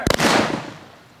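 A single loud volley of rifle gunfire at a ceremonial firing command, a sharp crack followed by a long echoing decay that fades over about a second.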